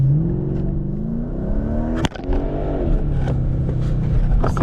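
A Mercedes CLK 500 V8 with a Roar throttle controller set to race mode 9, rumbling loud and close as the throttle is lightly tapped, the engine note swelling with a sharp mechanical click midway.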